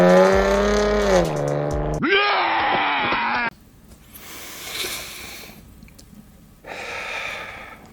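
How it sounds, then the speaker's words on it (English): A V6 muscle car with a straight-pipe exhaust revs loudly, a rasping, trumpet-like blat rising and falling, followed by quieter bursts of exhaust noise. "the V6 muscle car folks who believe their trumpet farting straight pipe exhausts sound glorious"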